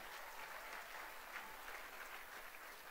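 Steady applause from an audience at a motivational talk, faint and evenly sustained for a few seconds without voices.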